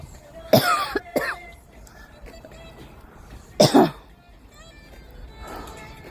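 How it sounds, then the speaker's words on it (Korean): Three separate coughs up close, two quick ones and then a harsher one after a pause, with a quiet room in between. "기침이 쎄서 나오네."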